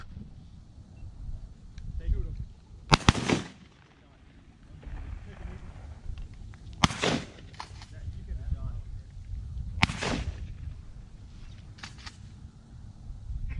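Shotgun blasts during a duck hunt on a pond, three sharp loud reports spaced a few seconds apart amid wind noise, with hunters talking between shots.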